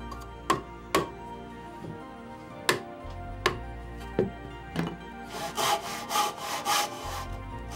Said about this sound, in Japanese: 下図に沿ってノコギリを入れ、余分な部分を切り落としていきます。